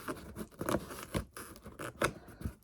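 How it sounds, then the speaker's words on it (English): A sticker being peeled off a surface, a close run of short crackling tears and scratchy rips that come in several bursts over a few seconds. "So here, it'll just peel off like this."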